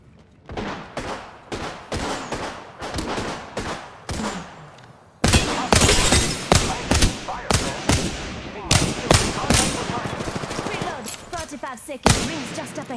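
Rapid gunfire in Apex Legends crackles in sharp bursts and rattling volleys, some close and loud, others softer, growing denser after a brief lull, with voices talking over parts of the shooting.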